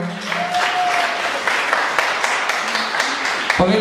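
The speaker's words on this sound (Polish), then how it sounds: "prosimy o ogromne brawa" A crowd at a Polish wedding party claps in steady, dense applause that holds at an even level for nearly four seconds before it stops suddenly.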